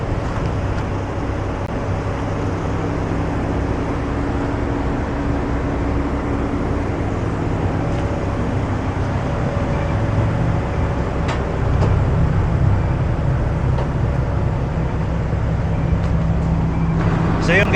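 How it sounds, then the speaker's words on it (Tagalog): A truck engine idles with a steady low rumble and droning hum while its air tank fills toward 130 PSI, with a few faint clicks and knocks over the constant running sound. "pinaandar na natin yung truck, kinargahan na natin siya ng hangin."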